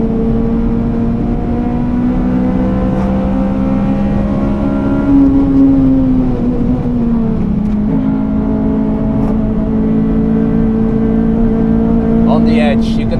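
Honda Civic FD2 Type R driven hard around the Nürburgring, a loud, steady in-car engine drone that rises and dips in pitch through the gears and corners, with a voice talking over it.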